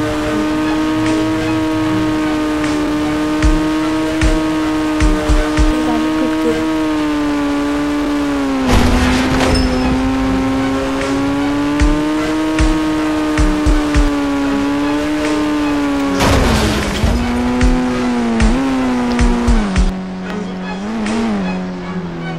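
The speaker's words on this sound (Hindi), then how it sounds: "अब मैं कार स्टार्ट कर दिया" A white car's engine drones steadily while driving in the mobile game Indian Bike Game 3D, its pitch rising and falling as it accelerates, with brief louder bursts and squeals breaking through, loud and continuous throughout.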